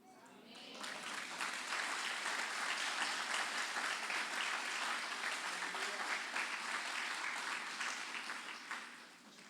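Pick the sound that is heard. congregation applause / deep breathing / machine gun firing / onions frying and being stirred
congregation applause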